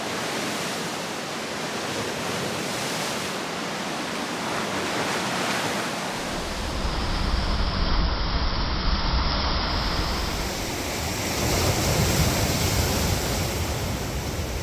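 Rough sea waves break on the rocky northern coast of Trinidad near Balandra in a continuous broadband roar that swells louder halfway through, with no voices.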